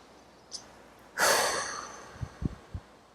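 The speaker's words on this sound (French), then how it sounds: "peut-être simplement en soufflant plusieurs fois." A person breathes slowly and deliberately, with one long, close exhale blown out through the mouth followed by a few short soft puffs of breath.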